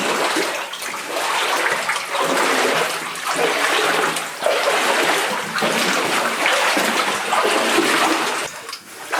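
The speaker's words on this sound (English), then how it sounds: "can hear a lot of water noise and things like that" Running water deep in an underground mine, a loud, close rushing and splashing flow that surges and eases in waves, with no talking.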